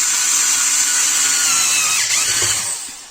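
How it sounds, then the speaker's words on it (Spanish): A loud, continuous whirring electric screwdriver drives screws while a 12-volt LiFePO4 battery pack is being assembled, close and steady with a slight change in pitch before it winds down at the end. "¿Os suena este atornillador, no?"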